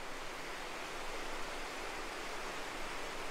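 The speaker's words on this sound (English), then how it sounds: "I'm going to have to talk kind of loud because of the sound of the water here." Water rushes steadily beside a catwalk trail high above a New Mexico canyon floor, a constant broadband roar with no pauses and no voices.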